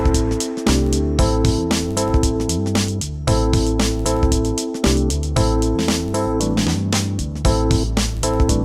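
A beat programmed on a Dirtywave M8 tracker plays with a steady drum pattern, bass and synth lines, and a crash cymbal marking the downbeat, loud and continuous with no talking.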